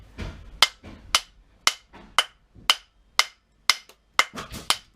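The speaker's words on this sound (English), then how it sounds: "I'll take my little ball peen, my little vintage ball peen, which I love." A vintage ball peen hammer strikes repeatedly at a steady pace during a bunker build, each sharp, loud metallic blow standing alone with short gaps between.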